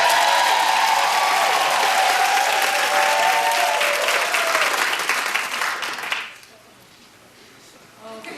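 A studio audience breaks into loud, sustained applause with a few cheers, dense clapping that holds for about six seconds before cutting off abruptly to near quiet.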